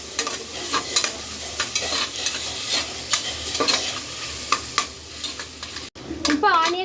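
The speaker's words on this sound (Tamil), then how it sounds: "உப்பு போட்ட பிறகு ஆனியன் நல்லா வணங்கணும்." Onions sautéing with salt in a pan sizzle steadily while being stirred, with repeated scrapes and clicks of a spoon, close and continuous, and a voice starting to talk right at the end.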